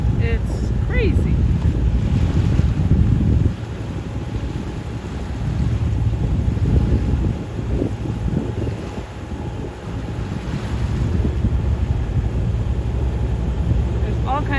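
A boat bounces through choppy water and swirling eddies near Friday Harbor, with steady engine rumble, hull slaps and heavy wind buffeting the microphone throughout, loud and close, with a voice speaking over it.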